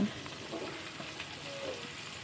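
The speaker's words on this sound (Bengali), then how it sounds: "এবং কুমড়োগুলো দেওয়ার পরে আমরা এটা একটু ভেজে নেব।" Pieces of pumpkin and potato fry in oil in a pan, giving a soft, steady sizzle with faint crackles, heard close up and alone.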